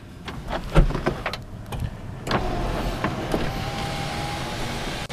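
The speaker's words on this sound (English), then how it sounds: "the sunroof in this car, too, is extremely fast" Electric motor whir of a power sunroof sliding open on a 2003 Honda Accord EX-L sedan, heard from inside the cabin as a steady mechanical hum with a few faint clicks, loud and close, no talking.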